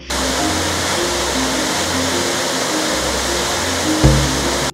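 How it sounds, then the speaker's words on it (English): Rushing water at Murchison Falls in Uganda, a steady broadband roar that holds even throughout, with a brief low thump near the end and faint tonal hum underneath. "Murchison Falls are falls like no other. Their water bubbles up with so much pressure."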